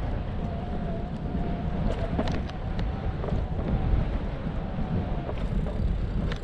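Steady cold wind roars across the microphone during a Cube hybrid e-bike ride around Otter's Edge on Benbecula, a constant low rumble with faint rustles and no talk.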